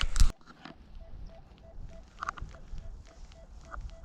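Rutus Atrex metal detector sounds a short repeating beep tone at a steady rhythm in the field, fairly faint over background rustle, after a loud thump at the start.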